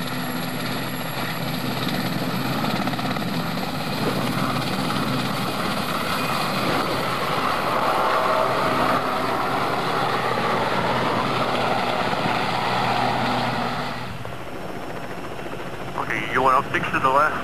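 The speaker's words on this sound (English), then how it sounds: "the helicopter is planning to take a team up to a remote part of the mountainside." A mountain rescue helicopter flies over a remote Scottish mountainside, its rotor and engine a loud, steady whirring drone that falls away near the end as voices speak over a radio.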